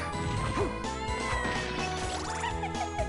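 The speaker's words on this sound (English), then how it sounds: "I hear a kitty cat." A cat meows in the video game Castlevania: Order of Ecclesia, a couple of short mews set within dense game music and sound effects that keep the mix loud and busy throughout.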